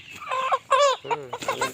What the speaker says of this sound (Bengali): অনেক বড় জাতের মোরগ